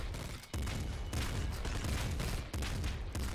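The Jaw Crusher, a double-barrel shotgun-style weapon in the game Nuclear Throne, fires in a dense, continuous barrage of blasts with a few sharp renewed bursts, loud and crowded throughout.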